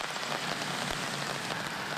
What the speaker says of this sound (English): Like a number of areas across southeast Texas, Jefferson County saw extensive rain Monday.